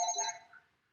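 A telephone rings during a podcast conversation, a single brief electronic ring that is bright and fairly close, then fading quickly into quiet.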